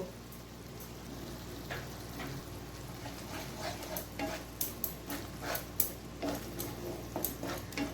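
Rui fish curry with chhana and poppy seed paste is stir-fried over the flame, with a soft sizzle under repeated sharp scrapes and clinks of a spatula against the pan.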